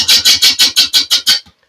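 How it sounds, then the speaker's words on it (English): A woodturning gouge bouncing across the wobbly bottom of a spinning wooden piece on a lathe, giving eight loud, evenly spaced rasping scrapes in a quick rhythm before stopping abruptly into silence. "I'm just letting the gouge bounce as it comes across"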